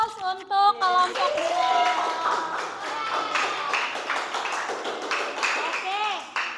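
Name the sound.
classroom applause for a student group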